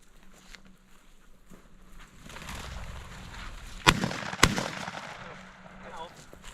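Two sharp shotgun blasts crack out about half a second apart during a quail hunt, over low rustling and faint outdoor background.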